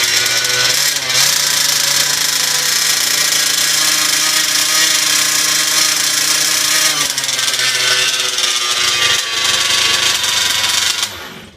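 A fifth-scale RC petrol engine being broken in runs loud and close, a steady high-pitched buzzing drone at idle and high idle, with brief dips in pitch near the middle, before cutting off at the end.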